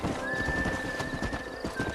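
A horse whinnies close by while hooves clop in Red Dead Redemption, the shrill neigh rising over a continuous patter of hoofbeats during a short burst of horse-breaking gameplay.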